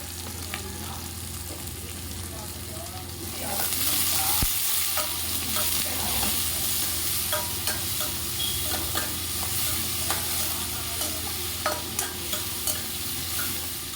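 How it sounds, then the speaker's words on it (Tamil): Dosa batter poured onto a hot pan bursts into a loud, steady sizzle after a quieter stretch, with faint clinks of utensils while kara kuzhambu cooks nearby. "இந்த பக்கம் தோசை ஊற்றி ரெடி பண்ணிகிட்ருக்கேன்"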